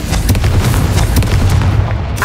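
A Confringo fire spell explodes in Hogwarts Legacy in a loud, sustained roar of booming blasts and crackling bursts, close and dense from start to finish.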